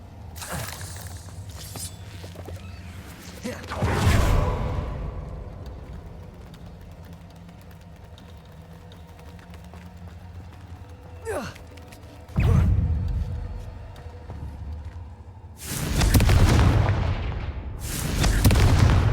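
Blasts of the Confringo fire spell in the Hogwarts Legacy video game, several loud bursting booms spaced apart, with a sharp crack and a rumbling blast near the end.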